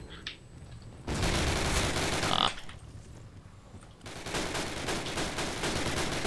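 Gunfire in a Call of Duty: United Offensive team deathmatch, loud bursts of rapid shots filling two long stretches separated by a quieter lull, with a machine gun among the weapons.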